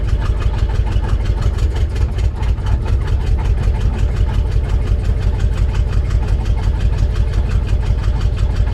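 A Rolls Royce engine with SU carburettors, revived after sitting dead, runs off its fuel pump at a steady, loud idle with an even, rapid low pulsing throughout and no voices.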